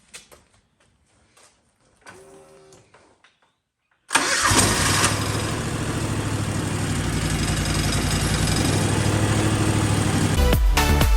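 A John Deere X720 lawn tractor's engine cranks and catches after a few quiet clicks, then runs loud and steady at a close idle, dropping briefly near the end.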